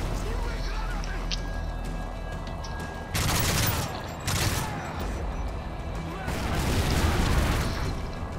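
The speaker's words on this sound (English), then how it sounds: "I just did that so the explosions wouldn't kill me." Explosions and bursts of gunfire in a Modern Warfare 3 survival match, with heavy booms at about three, four and seven seconds over steady background battle noise.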